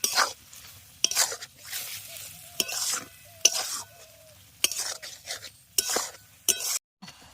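Tomato chutney with mango leather being stirred in a pan, the spoon scraping and knocking in repeated sharp strokes about once a second over a soft bubbling simmer, close and clear.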